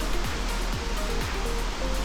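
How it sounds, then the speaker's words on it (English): Laden Falls near Daylesford pours continuously with a dense, even roar of falling water that fills the whole stretch at close range. "Have a look at this, the beautiful Laden Falls."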